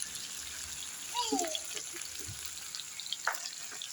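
Chicken stir-fries in a pan with a faint, steady sizzle, broken by a few brief scrapes and clinks of a utensil against the metal.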